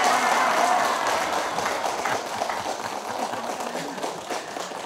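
A crowd at a neighborhood religious study gathering applauds for a few seconds, steady and fairly loud, fading slightly toward the end, with faint voices mixed in.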